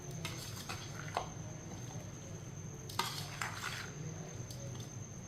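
Raw mango pickle with oil and spices being stirred in a pot: soft scraping and occasional clinks of a spoon against the vessel, quiet and close, with no speech.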